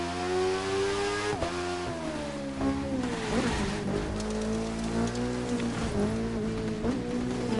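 A car accelerating in the racing game The Crew 2, its engine note holding a steady, strong harmonic drone that rises and dips with gear changes, close and continuous under a soft hiss of road or rain noise.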